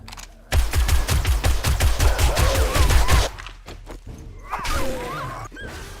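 Rapid gunfire emptying a full magazine in the video game 7 Days to Die, a loud sustained burst of about a dozen shots over roughly three seconds, followed by quieter game noise and a few faint clatters.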